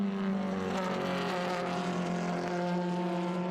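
Vintage race cars at Road Atlanta roar steadily, their engine drone sustained and loud with clear harmonic tones throughout.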